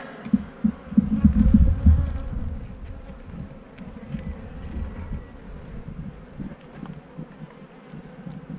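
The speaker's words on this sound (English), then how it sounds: "Lot of bees." Honey bees swarm around an open nuc hive with queen cells and brood, their dense low buzzing steady and close throughout, with a louder surge near the start and no voices.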